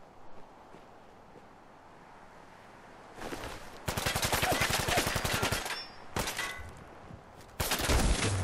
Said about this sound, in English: So there was a radium rifle that they were firing at me.